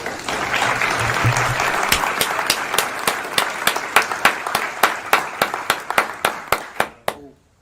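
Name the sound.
applause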